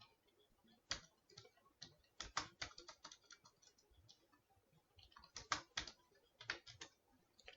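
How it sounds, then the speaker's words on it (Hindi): Code typed on a computer keyboard, quiet close keystrokes clicking in irregular quick runs and single taps, with short pauses between bursts and no voice. "यहाँ पे मैं नाम लिख देता हूँ विद्युत।"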